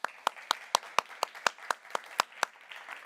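A conference audience claps in an even, regular rhythm of about a dozen sharp beats, distinct and fairly close, without any voices over it.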